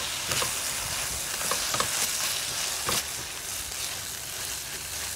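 Penang curry paste frying in a pan for a vegan wild mushroom curry, a steady close sizzle with intermittent stirring scrapes and soft taps as the paste is broken up, no speech.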